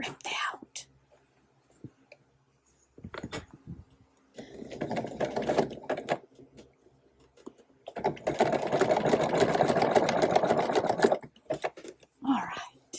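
Sewing machine fitted with a walking foot stitches through old jean denim, with short clattering bursts building to a longer, louder run near the end, while a person whispers between the bursts.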